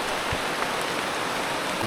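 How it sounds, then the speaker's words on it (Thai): Heavy rain falls steadily on a waterfall trail, a dense, even hiss of drops all around with no voices. "ฝนตกลงมาฉ่ำเลยนะครับ"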